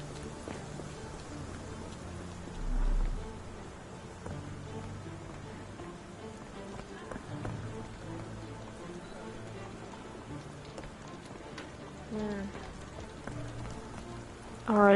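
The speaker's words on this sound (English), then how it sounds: "It's raining outside." Steady rain patters outdoors in the detective video game Sherlock Holmes The Awakened, a constant soft hiss of drops on surfaces with faint scattered ticks and a few low thuds, moderately quiet throughout.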